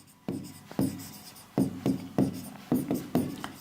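Chalk or marker strokes on a classroom board, a series of short scratchy writing bursts in an uneven rhythm, close and clear with no talking.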